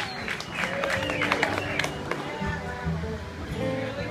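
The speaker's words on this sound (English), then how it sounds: "Let's have a round of applause for Bobbi here." An audience claps at an engagement celebration, moderate and fairly steady applause with scattered louder claps, mixed with crowd murmur and nearby voices.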